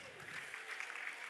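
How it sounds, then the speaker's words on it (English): Faint, brief applause from a small audience for a master butcher at a cattle industry steak showcase, soft clapping lasting only a moment. "Round of applause for Doug."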